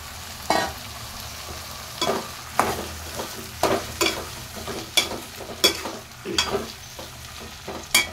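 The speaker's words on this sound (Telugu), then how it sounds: "టమాటా వేసుకుంటున్నాను." Tomato goes into a sizzling pea and potato curry, with a steady frying hiss under repeated sharp stirring scrapes and taps about once a second.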